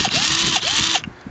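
A Ryobi P277 18V cordless drill runs close and loud with a steady high whine, rising and falling a few times as it speeds up and slows, then cutting off near the end.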